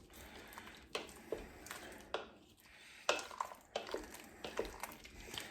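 A spoon stirs gravy into a pot of beef stew, producing soft, faint scraping and knocking strokes at a slow uneven rhythm, close by and without speech.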